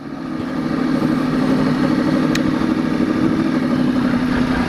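A Yamaha R1 motorcycle engine drones with a steady, loud mid-pitched roar, close and continuous throughout, riding at an even pace with no speech.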